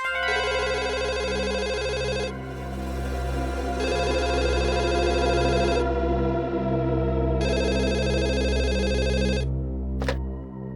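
A telephone rings in repeated electronic bursts of about two seconds each, separated by short gaps, over a steady background music bed with a brief click near the end.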